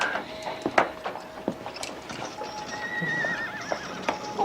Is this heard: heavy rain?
no